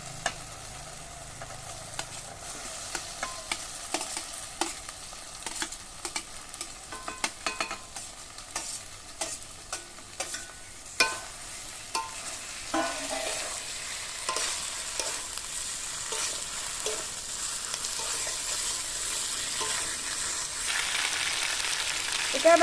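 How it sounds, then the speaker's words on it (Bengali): Diced potatoes, papaya and egg frying in spice masala in a pan, stirred repeatedly: a soft continuous sizzle with scraping and clinking strokes of the spoon, growing a little louder toward the end. "এটা এবার ভালো করে কষিয়ে নেই"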